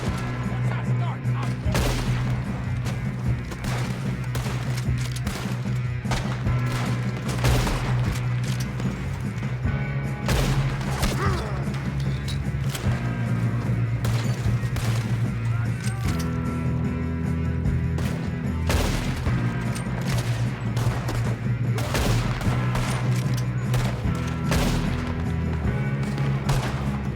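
Gunshots ring out in a Red Dead Redemption II shootout, with repeated sharp cracks scattered across a dense, steady bed of game music and effects while in-game characters talk over it.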